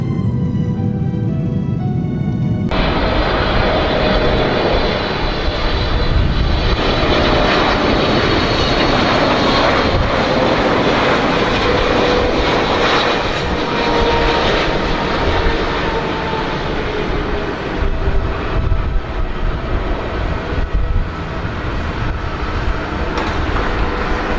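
A large passenger airplane landing at Doha during a transit stop, its jet engines roaring loudly and steadily after a sudden rise, the cabin rumble and whine filling the space without talk.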